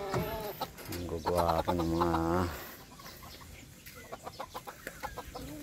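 Backyard chickens, including Silkie, Satin and Choco Brahma hens, clucking and calling close by, with a long sustained crow-like call and quick clucks while someone talks over them.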